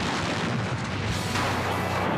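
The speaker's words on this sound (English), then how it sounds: "You can hear the car combusting, and a full-on explosion could be moments away." A burning, wrecked pickup truck combusts in a harsh, continuous roar with rumbling bursts, loud and close.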